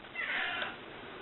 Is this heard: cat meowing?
yes